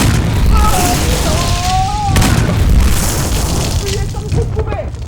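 Booming explosion effects from a Lego Ninjago cartoon battle, two heavy blasts roughly two seconds apart with a long rumbling tail, while voices shout and speak over them.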